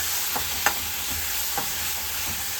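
Coconut, garlic and curry leaves frying in a pan with a little asafoetida, a steady soft sizzle running throughout, broken by a few light scrapes of a spoon stirring.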